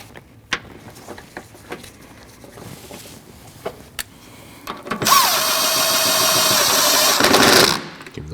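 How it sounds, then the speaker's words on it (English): Two 10mm bolts on the coolant reservoir of a 2014-2023 Jeep Cherokee 2.4L are driven back in with a power tool: a few faint clicks, then a loud, steady buzzing run of about three seconds, close up, then stopping. "take your two 10mm bolts, reinstall those"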